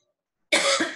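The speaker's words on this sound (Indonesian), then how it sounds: "sorry batuk" A single sharp cough bursts out after half a second of silence, close and loud, with a short rough follow-through.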